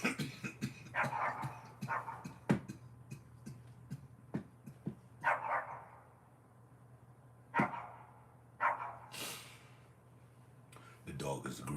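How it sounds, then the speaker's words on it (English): A dog barks from a distance across the way, several sharp irregular yaps spread through the clip, with people talking nearby over a low steady background hum. "The dog is agreeing from across the way."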